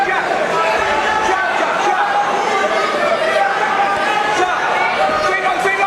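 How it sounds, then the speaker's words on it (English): The crowd at York Hall in London fills a boxing night with a steady, lively hubbub of many voices, cheering and chatter blending into a constant close roar. "the crowd are absolutely loving the action tonight here at the York Hall"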